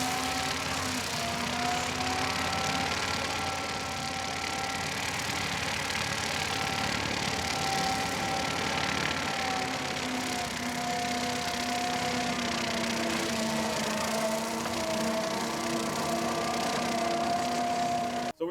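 Skid steer loader running an industrial standard-flow brush mower at full throttle through thick, dense canary or swamp grass, its engine droning loud and steady throughout with shifting tonal whine from the mower.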